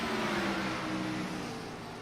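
Race cars in a racing league video game roar along as a steady, dense engine drone, a continuous buzzing whine that stays loud and even before fading slightly.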